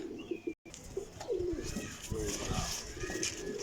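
Several pigeons, including a female with a golden touch, coo steadily nearby while a person talks under the birds' continuous murmuring.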